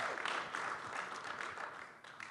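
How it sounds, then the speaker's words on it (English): A jazz concert audience gives a round of applause, a dense steady wash of clapping heard throughout at moderate distance. "that's worth a round of applause there."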